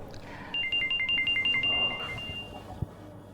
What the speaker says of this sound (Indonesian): saya harus jawab telepon ini